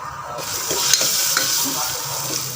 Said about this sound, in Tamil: இது கொஞ்சம் லேசாக இது கொஞ்சம் வர கிளறி விட்டுக்கலாங்க